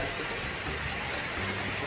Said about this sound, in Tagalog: umuulan sa labas mga kapanalig, kaya ang lamig dito sa taas.